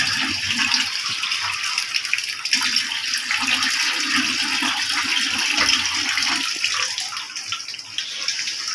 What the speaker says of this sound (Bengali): আবার একটু পানি দিয়ে দিচ্ছি।